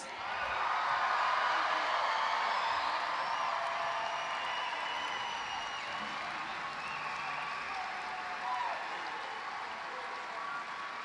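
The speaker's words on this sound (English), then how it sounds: "Can we give our class of 2019 another applause, please?" Large crowd at a high school commencement ceremony in an auditorium applauds the class of 2019, sustained dense clapping at moderate distance, steady throughout and easing slightly toward the end.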